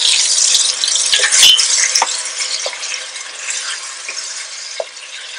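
Onions and chopped tomatoes fry in a pot with a steady close sizzle, broken by a few light scrapes and clinks as they are stirred, loud at first and settling slightly toward the end.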